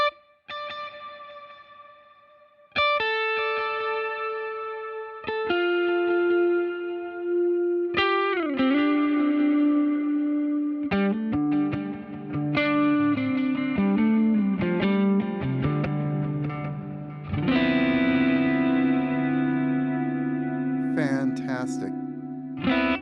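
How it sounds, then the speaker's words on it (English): Line 6 Helix guitar delay with reverb on the repeats: a string of picked electric guitar notes, each trailing into washy echoing repeats that smear and build into a dense, spacious texture. "So you get a dry note, and then the delays have reverb."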